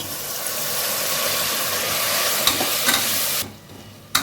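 Tempering of green chilies, onion and dal sizzles in hot oil in a pan, a loud, steady frying hiss with a few stirring clinks before the sizzle suddenly drops away near the end.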